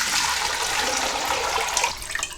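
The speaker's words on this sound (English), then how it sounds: "I'm going to add in water in my pot." Water pours steadily into a cooking pot while pepper soup is being made, a continuous close splashing rush that eases slightly toward the end.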